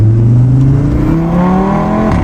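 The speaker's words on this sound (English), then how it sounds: "Did you hear how the valves are still closed in the low?" Audi RS3 engine running with its exhaust valves closed, a loud, steady low drone whose pitch rises and dips slightly as revs change, continuous with no talk over it.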